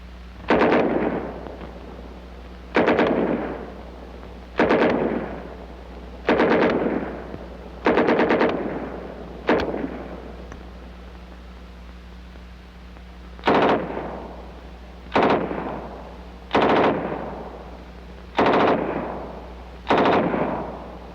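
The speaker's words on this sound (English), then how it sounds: "And our new submachine pistol caliber .45 M3." A World War II M3 .45 calibre submachine gun fires about ten loud, short bursts at a steady pace, each crack ringing out before the next, with no voices.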